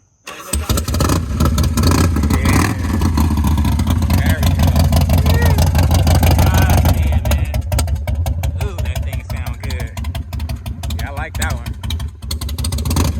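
A Harley-Davidson V-Rod motorcycle with short exhaust pipes roars close by, revving hard in sustained, loud pulses that ease slightly midway, while people talk over it.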